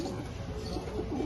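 Pigeons kept by a hobbyist breeder coo softly and steadily at close range, a low continuous murmur with no talk over it.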